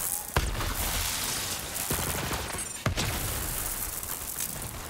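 A few sharp gunshots in the Borderlands 3 video game, during a prison break at Mayhem 11, spaced irregularly against a dense, loud bed of game sound effects and music.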